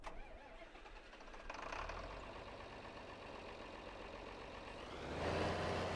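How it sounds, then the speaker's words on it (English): A tractor engine cranks and catches in Farming Simulator 22, a steady mechanical churn that swells into a louder running rumble near the end, with no talk over it. "Yeah, I did start the engine."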